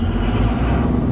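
A truck in low gear pulls away after a gear change, its engine a steady, loud, close rumble with no break or talk.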